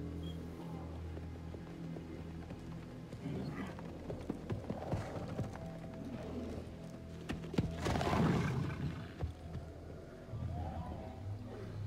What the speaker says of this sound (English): Come on. Nice horsey.